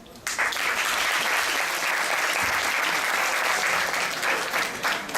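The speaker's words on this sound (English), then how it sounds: "Let's give everyone one more round of applause." Graduates and guests at a university graduation ceremony burst into loud, sustained applause, a dense wash of many clapping hands starting abruptly and holding steady close by.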